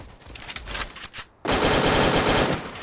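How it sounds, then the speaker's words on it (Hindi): Sustained rapid automatic gunfire from a Trogon rifle in the video game Free Fire, loud and continuous for over a second after a short pause, with a burst of shots earlier. "ट्रोगन कितना भयानक चलता है यार"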